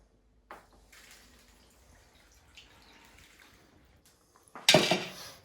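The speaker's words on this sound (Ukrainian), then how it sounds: "І сюди ж виливаємо ще пів літра води." A dish clinks, then after a quiet stretch half a litre of water is poured briefly into a bowl of minced meat for khinkali, a short splashing rush near the end.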